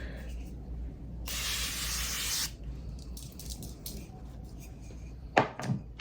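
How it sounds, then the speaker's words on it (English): Morphe coconut setting spray misted onto a face in one steady hissing burst lasting about a second, close by, followed by a couple of faint taps and clicks. "I like to spray my face and then I press it down with a puff."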